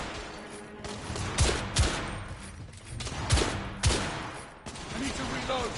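Gunfire in the video game The Order: 1886, several sharp shots spaced irregularly across the clip over a steady game soundscape, with no talk.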